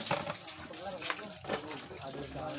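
Tap water runs steadily into a basin for soaking potatoes, a continuous gushing hiss that sits under a voice talking throughout.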